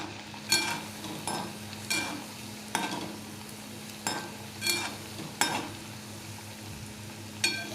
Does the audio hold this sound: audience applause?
no